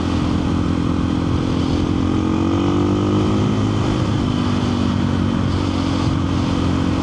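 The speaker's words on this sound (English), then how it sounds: "the power of this bike, just every gear, no matter the rev range, you pull back and it goes." A KTM 500 EXC-F motorcycle riding on country roads, its engine a steady, loud droning hum heard from the rider's position, mixed with rushing wind noise and no sharp changes in pitch.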